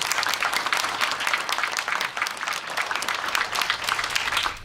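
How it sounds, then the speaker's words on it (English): Audience applause fills a room at a library candidates night, dense steady clapping from many people that holds at an even level throughout without any talk. "So just give them a quick round of applause if that's okay."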